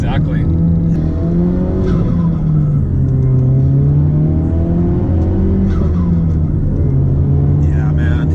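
A 2017 Ford Focus RS accelerates hard, its loud engine note rising and falling through gear changes, with an occasional brief tire squeal and voices faintly present.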